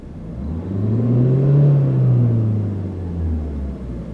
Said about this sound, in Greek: αλλάζει ακόμα και ο ήχος του κινητήρα